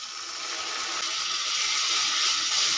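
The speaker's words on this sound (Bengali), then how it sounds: "মশলাগুলোকে ভালো করে কষানোর জন্য খুব সামান্য পরিমাণে জল দিয়ে দেবো" A little water is poured into a pan of cooking spices with Kashmiri red chilli powder and salt, giving a steady hissing splash that swells slightly over a few seconds, with no speech.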